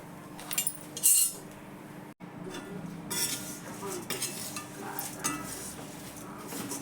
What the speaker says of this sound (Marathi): पोहे भाजताना कसं जरा सांभाळूनच भाजायला लागतात ना, गॅस बारीक करून.